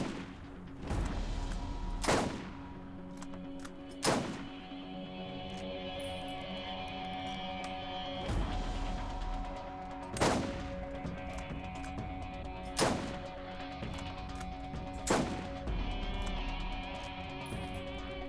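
Gunshots ring out in a looting-and-shooting video game, sharp broadband cracks spaced a couple of seconds apart over a steady game soundscape with tonal background music.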